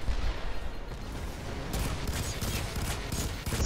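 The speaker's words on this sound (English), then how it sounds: "Oh, who's shooting me? Who's shooting me?" Rapid bursts of automatic gunfire from the shooter game F.E.A.R. 3 rattle in clustered volleys, with sharp crackling shots that grow denser in the second half.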